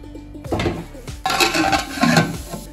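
A metal biryani pot set down onto a flat griddle (chatu) for dum cooking of chicken biryani, giving a few close, loud metallic clanks and scrapes in short bursts.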